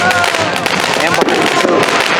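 Fireworks and mortar shells burst repeatedly at close range during a suburban fireworks battle, loud cracks and booms layered over constant crackling, with excited voices shouting over the barrage.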